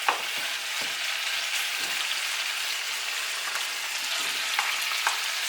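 Carrots and onions sauté in a pan for a Haitian-style chicken and mango habanero sausage stir-fry, a steady close sizzle with light stirring clicks and occasional pops, no voices.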